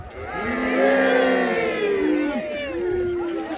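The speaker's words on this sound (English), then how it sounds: "Just take the cheer anyway" A crowd cheers at a jousting land battle at Loxwood Joust, with many voices rising in a sustained, wavering shout that swells early and then tails off.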